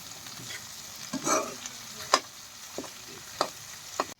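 Pork fries in a pan with potatoes, tomatoes, spices and fiddlehead ferns, giving a soft continuous sizzle broken by several sharp stirring scrapes and clicks, close and fairly quiet.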